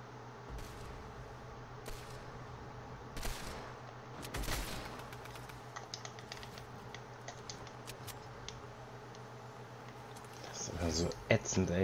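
Scattered gunshots in a video game match, a few loud isolated bursts and quick clicking shots, play under a voice talking, with a denser flurry of sounds near the end.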